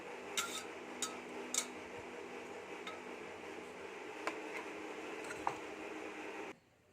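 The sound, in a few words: peeling the skins off boiled potatoes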